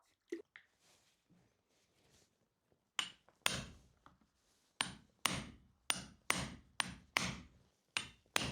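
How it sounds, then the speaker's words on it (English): A steel ball driven with hammer blows into a swage block to shape a copper disc: a few soft taps, then about a dozen sharp, ringing metallic strikes at an uneven, fairly quick pace, close and loud. "I'm going to drive it down into the swage block to refine the shape of the copper disc a bit more"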